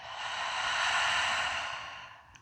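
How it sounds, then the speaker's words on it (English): A person exhales deeply and slowly during an evening hatha yoga wind-down, one long, breathy whoosh of air that swells and then fades, close and alone with no talking. "Exhale it out."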